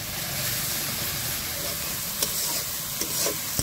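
Onion paste and spices fry steadily in a pan, a dense continuous sizzle with a few brief clinks of a spoon against the pan.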